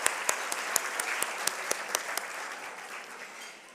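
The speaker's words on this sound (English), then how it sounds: "Can we please give another round of applause for our banquet staff who made this event possible tonight?" Audience applause for the banquet staff at an awards gala, a dense wash of clapping with sharp individual claps standing out early, gradually thinning and fading toward the end.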